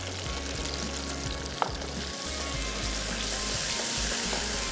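Fennel and fenugreek seeds frying with tomato puree in a pan, a steady dense sizzle with a low bubbling undertone throughout, one brief clink near the middle.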